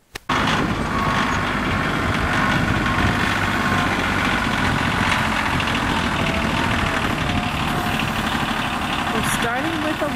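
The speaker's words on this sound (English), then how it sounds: "we'll get the tractor and we'll start loading up" A tractor engine idles close by at a garden site, a steady, loud, rumbling drone with slight knocking vibration that runs unbroken for the whole stretch.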